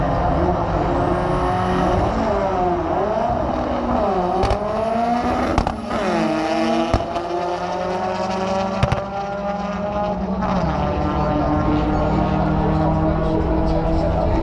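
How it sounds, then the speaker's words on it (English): 4-cylinder drag racing car at Santa Pod during a Doorslammers event, a loud, close engine roar with rising and falling revs and sharp crackling pops, sustained throughout with background racetrack noise. "Chris Todd is on the start line now"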